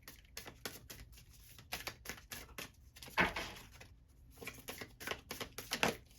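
Tarot cards being shuffled at length, a rapid run of dry papery riffles and flicks in quick bursts with brief pauses and a couple of sharper slaps, close and fairly quiet with no talk.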